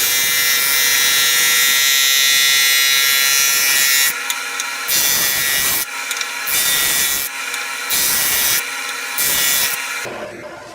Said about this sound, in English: if you have a thickness planer like this, you can just zip these through and it's going to make this the right level for you